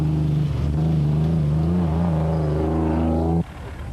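Nissan Hardbody rally racing truck engine revving loud and close, a strong harmonic growl that rises in pitch and holds before cutting off abruptly near the end.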